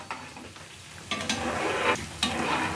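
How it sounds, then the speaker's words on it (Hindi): Semolina cashew biscuits frying over a medium flame while being stirred, a close steady sizzle broken by several sharp scraping stirs against the pan, no talk. "तो बिल्कुल मीडियम फ्लेम पे इसे चलाते हुए फ्राई कर लीजिए।"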